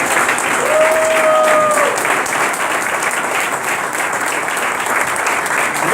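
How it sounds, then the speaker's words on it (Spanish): A church congregation claps loudly and continuously during an evangelical service, a dense sustained wash of applause with a brief tonal cry rising above it early on. "Dale un fuerte aplauso al Señor."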